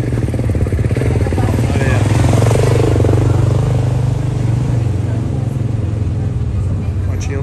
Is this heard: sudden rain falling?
no